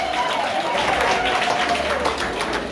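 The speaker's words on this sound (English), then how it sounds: "Let's give her once again a fantastic round of applause." An audience at an annual nurses and midwives association dinner applauds: steady, sustained clapping from a crowd, with a faint voice running underneath.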